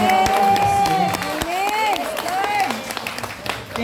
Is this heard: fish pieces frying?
no